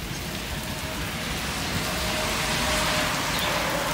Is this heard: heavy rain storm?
yes